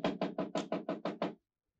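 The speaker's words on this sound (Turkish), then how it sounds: "Kapı vuruluyor." A series of eight firm knocks on a door, quick and evenly spaced, sounding close and dry before stopping into silence.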